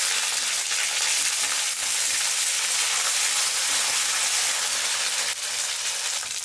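Ginger and garlic sizzle and fry steadily in hot oil for a Bengali jhinge chingri curry, a loud, continuous crackling hiss with no voices, dipping briefly near the end.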